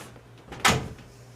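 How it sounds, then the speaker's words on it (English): A door is pushed shut with a single close thud, heard briefly over a quiet background hum. "let me shut this door"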